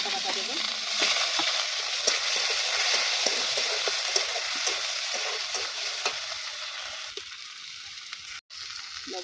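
Cumin, ginger, garlic and chilli pastes frying in oil for a cauliflower and egg curry, a steady close sizzle with scattered stirring scrapes throughout, dipping briefly near the end.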